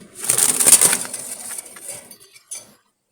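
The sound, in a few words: Jalali pigeons cooing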